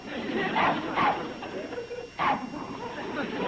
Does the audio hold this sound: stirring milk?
no